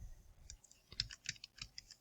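Keys on a computer keyboard are typed in a short, irregular burst of soft, close clicks, each tap quiet and distinct, with no talk.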